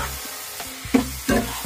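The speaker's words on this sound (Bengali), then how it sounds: "আলুটা দিয়ে আমি আরো একটু কষিয়ে নিই।" Fried potatoes are stirred into a simmering mushroom curry with yogurt and cashew paste in a pan, giving a low sizzle broken by a few distinct scraping, clattering stirs near the end.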